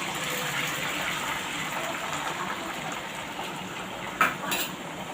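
Beaten egg mixed with pepper and salt is poured into hot oil in a pan for a chapati egg roll, making a steady, close hiss of sizzling, with a couple of brief utensil clinks near the end.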